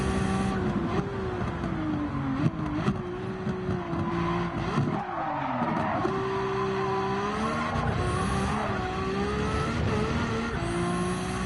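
Race car engine in a racing video game on a challenging course, revving steadily with pitch rising and dipping through gear shifts and corners, with brief tire squeal, loud and continuous with no talking.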